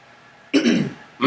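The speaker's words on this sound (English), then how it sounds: "Just clear your throat normal." A man clears his throat once in a short, rough burst, followed by the start of a second throat-clearing sound, loud and close.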